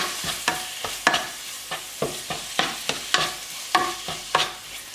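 Food stirred and mixed in a pan with a spoon, a regular series of close scraping strokes about twice a second, with a faint sizzle underneath and no talk.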